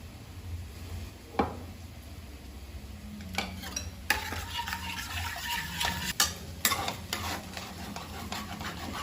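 Eggs seasoned with pepper and salt are stirred in a pan, giving a soft sizzle under repeated scraping and clinking of a utensil against the pan, louder bursts toward the middle and end, without speech.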